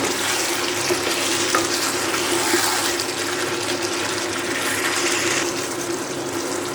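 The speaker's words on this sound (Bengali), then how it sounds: "মাংসটাকে আমি এইভাবেই কষাতে থাকবো কিছুক্ষণ।" Chicken masala for Punjabi dhaba-style chicken being sautéed and stirred with spices in a pan, giving a steady, continuous loud hiss and sizzle throughout with no talking.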